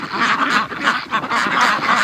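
Peking ducks on a frozen-lake farm quacking and honking loudly nearby, a continuous overlapping chorus of raspy calls.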